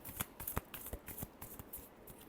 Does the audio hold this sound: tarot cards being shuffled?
yes